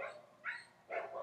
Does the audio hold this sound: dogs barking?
yes